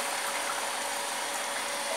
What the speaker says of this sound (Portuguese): Bomba d'água aí.